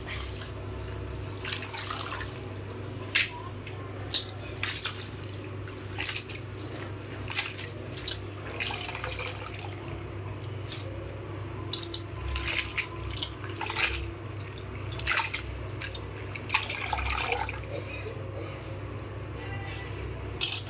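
Amaranth leaves being rinsed by hand, with splashing, dripping and sloshing water in irregular bursts over a low steady hum, fairly close and moderately quiet, with occasional voice in the background.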